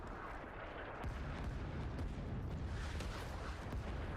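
Artillery fire in the game Rising Storm 2 rumbles as a run of deep booms and sharp blasts, dense and continuous, some distant and some closer.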